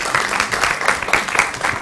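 Studio audience applause on a Hindi morning talk show, a steady wash of clapping with rhythmic bursts, moderately loud and sustained for the whole stretch with no voices over it.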